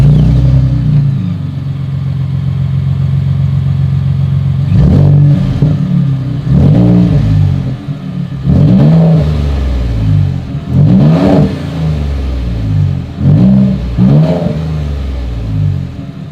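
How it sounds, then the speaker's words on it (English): Ford Raptor pickup truck exhaust idling with a deep rumble, then revved in a series of sharp, loud throttle blips that rise and fall several times in quick succession, heard up close. "As always, here is that exhaust clip."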